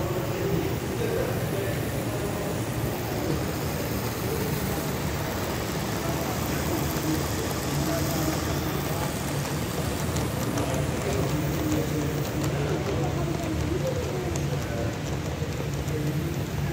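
A live steam model Shay geared logging locomotive runs at a tram museum, giving a steady hissing, rain-like wash of steam with a continuous low mechanical rumble and no break throughout.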